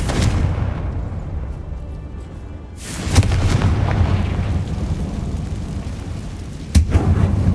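A Confringo blasting spell erupts in Hogwarts Legacy inside a closed-off mine, a loud booming blast with a rumbling tail, followed by a second sharp explosive burst near the end.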